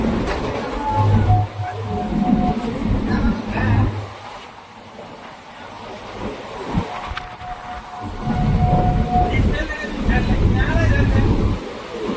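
A nearly empty passenger train runs between stations, giving a steady rumbling roar with wind-like rushing and occasional tonal whines, recorded from inside the carriage.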